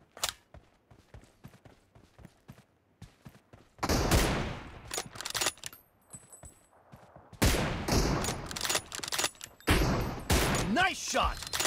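M24 sniper rifle fire in PUBG Mobile, with sharp single shots amid rapid clicking, then loud bursts of heavy gunfire, close and punchy, with talk in between.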